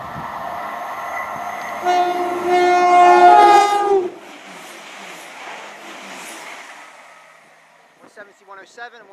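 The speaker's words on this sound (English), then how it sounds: "Coming through now is another turbo star to Nottingham." A Class 170 Turbostar diesel train to Nottingham sounds a two-tone horn that drops in pitch as it passes close, followed by fading engine and wheel rumble, then brief chatter near the end.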